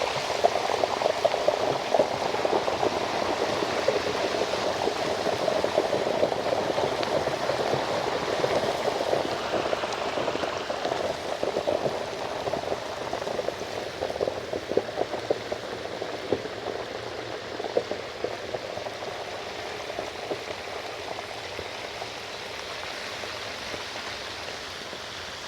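Hot grease bubbling and boiling hard around a whole turkey in a deep fryer, a steady dense seething roar of crackle and fizz that stays loud and unbroken, with no voices.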